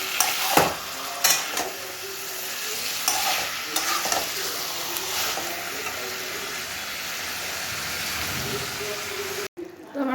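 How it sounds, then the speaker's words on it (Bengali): Chicken stir-fried in a pan, the meat being browned down, sizzles continuously while spoon scrapes and stirring knocks come in bursts near the start, then settle into a steady fry. "ভালো করে একটু মাংসটা কষা কষা হয়ে গেলে"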